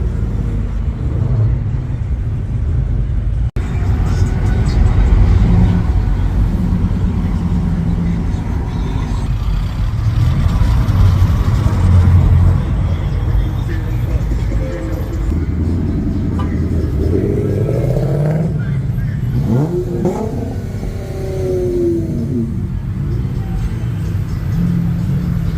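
A Ford Mustang Mach 1 at a nighttime car meet rumbles steadily at close range, with a continuous low engine drone that swells and shifts toward the end amid faint crowd noise.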